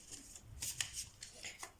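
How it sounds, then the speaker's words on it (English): A deck of oracle cards is being shuffled quietly at close range, with a run of soft, irregular papery slides and flicks over low room noise. "I'm just gonna be shuffling because this helps me channel"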